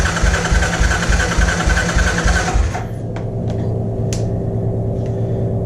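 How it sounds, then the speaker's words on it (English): A Honda TRX 200sx ATV with its choke on cranks on the electric starter, giving a loud rhythmic whirring churn for about three seconds. The engine does not catch, and a low steady hum with faint clicks follows. "We're going to hit the starter button here."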